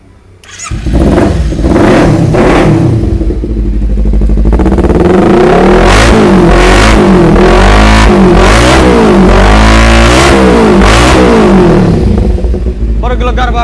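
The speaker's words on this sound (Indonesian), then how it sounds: "Langsung saja aku cek sound ya bang." A yellow Kawasaki Ninja 250 FI motorcycle with its exhaust being revved hard, loud and close, rising and falling in repeated throttle blips over a steady idle rumble.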